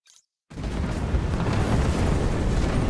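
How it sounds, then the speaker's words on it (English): In the video game Marvel's Avengers, after a brief moment of near silence, a dropped cannon explodes hugely and sustains as a deep, roaring rumble that fills the rest of the clip. "Jarvis, drop the cannon."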